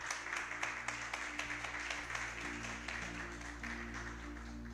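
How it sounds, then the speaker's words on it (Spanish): A church congregation claps in applause, a sustained rippling of many hands with a low hum underneath, fairly distant in a large room. "Dele el aplauso al Señor."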